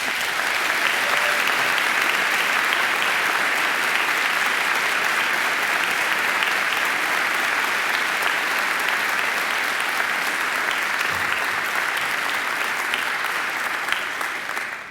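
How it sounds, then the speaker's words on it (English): A graduation ceremony audience gives a loud, sustained round of applause, dense clapping holding steady for the whole stretch and tapering only at the very end. "send him a greeting in the form of a very, very loud round of applause"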